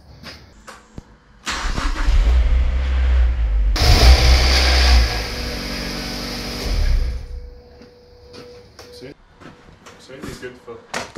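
A Mazda MX5 NC project car's engine cranks and catches, then runs loudly for several seconds before settling and shutting off, with clicks and people talking nearby.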